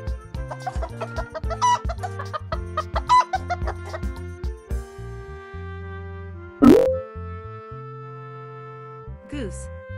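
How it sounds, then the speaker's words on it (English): A chicken clucks in a quick run of short, choppy calls over light background music, followed by a brief sliding sound effect and a faint closing note. "Chicken."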